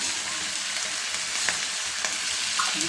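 Chicken sizzles and fries in hot oil in a pan, with a steady bright crackle throughout, occasional pops, and stirring sounds, up close with no talking.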